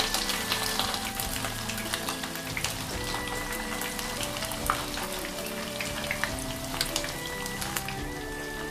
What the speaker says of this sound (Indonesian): Intinya goreng ayam pelan-pelan.